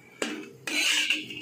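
A cast iron wok being shifted and tilted on the stove to spread lard while seasoning it, giving two or three near, clanking metal scrapes and knocks with a sustained sizzling hiss between them.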